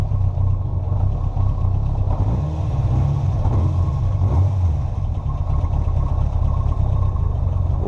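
A cold vehicle engine idles steadily on a frigid day, a loud, close, low rumble that holds even throughout with a slight wavering surge midway.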